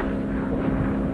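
An ambulance airplane's engine drones steadily in flight, a continuous even hum with no break and no voices over it.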